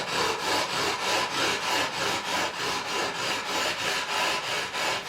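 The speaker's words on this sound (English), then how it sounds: "we're just going to go up and down on it with a coarse over 240 side, just to see if it removes all of the ink in one go" Levelling block with 240-grit abrasive rubbed back and forth over the frets of a 1978 CBS-era Fender Stratocaster during a refret, making rapid rhythmic rasping strokes about three per second, close and steady, with no talking.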